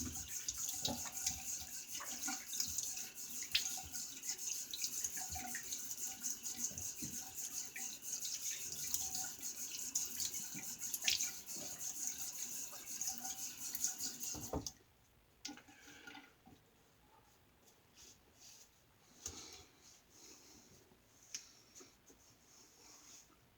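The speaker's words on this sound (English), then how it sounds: "But let me get a rinse on my face." A bathroom tap runs steadily while water splashes as a face is rinsed after shaving; the flow is close and continuous with small splashes, then cuts off abruptly, leaving faint drips and handling noises.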